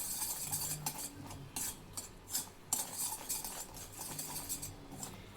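A spoon stirs and clinks through a small bowl of home cough remedy ingredients, with repeated scraping strokes and light metallic taps at close range and no voices.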